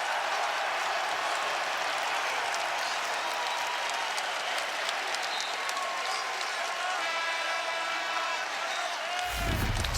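Basketball arena crowd at Purdue versus Oregon roars in a loud, sustained wash of cheering and clapping that fills the space continuously, with a brief thump at the end.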